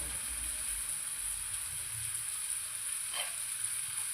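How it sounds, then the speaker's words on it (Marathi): Onion and tomato with chilli powder, homemade masala, turmeric and salt sauté in a pan, giving a steady soft sizzle and one brief scrape. "परतून घेऊया"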